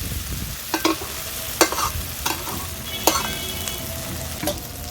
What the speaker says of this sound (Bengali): দিয়ে দিচ্ছি এঁচোড় আর ভেজে রাখা আলু, সব কিছু ভালো করে মিশিয়ে নেব।